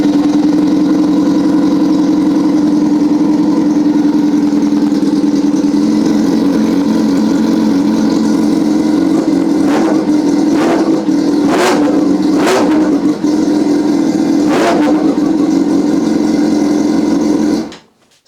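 A Yamaha FZ6 motorcycle engine idles steadily and loudly at close range, then gets several short sharp revs in a row before cutting off abruptly at the end.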